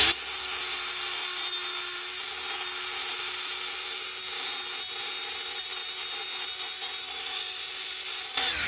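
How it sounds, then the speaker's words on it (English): Milwaukee Gen 2 right angle die grinder (3485-20) grinding metal with a burr, a steady high-pitched whine held loud and close for the whole stretch, with slight changes as pressure shifts and no voices. "So let's try some die grinding."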